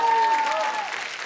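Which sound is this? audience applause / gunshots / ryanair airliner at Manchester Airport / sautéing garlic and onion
audience applause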